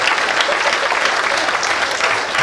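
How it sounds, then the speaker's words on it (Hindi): Thick, steady clapping from a live audience at a Haryanvi comedy poetry recital, loud and continuous throughout. "एक बार हाथ खड़े करके तालियां बजाओ जरा।"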